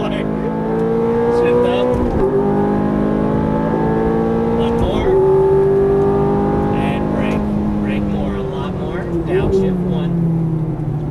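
A Ferrari F430 or Nissan GT-R sports car on a race track with orange cones accelerates hard, loud engine revs climbing through several gear changes with brief dips between pulls, close and dominant, voices talking over it.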